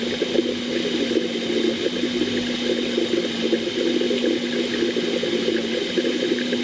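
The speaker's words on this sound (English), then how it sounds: "Now we're doing the back toilet, flushing it out." Water rushes steadily through a boat's back toilet as it is flushed out, a continuous close gushing with a low pump hum beneath, unbroken for the whole stretch.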